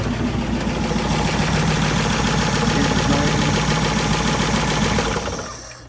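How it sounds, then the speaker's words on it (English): A Graymarine AMC marine V8 engine with a worn oil pump and no oil pressure runs with a loud, steady rumbling knock for several seconds, then cuts off and fades near the end. "I'm going to start it up for a real short time"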